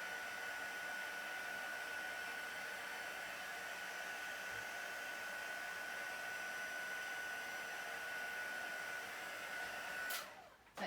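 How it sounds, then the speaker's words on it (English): Heat gun blowing steadily for embossing a Stampin' Up! card project, a constant close whooshing hiss with a faint high whine that runs unbroken until it cuts off sharply near the end. "Heat gun's quite warm still, so it shouldn't take me too long to do it."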